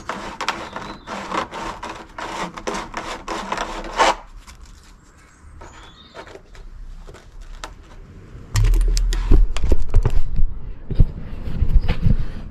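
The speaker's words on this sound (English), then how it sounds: "Maybe a wood saw is not the best drill bit to use." A wood hole saw grinds and rasps through material in dense bursts, loud at first, then a quieter stretch before heavier cutting resumes near the end.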